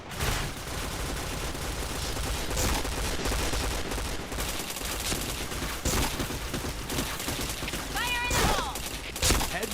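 Rapid, dense P90 submachine-gun fire in a shooter video game, loud and near, with sustained bursts across the whole stretch and a voice occasionally speaking over the shooting.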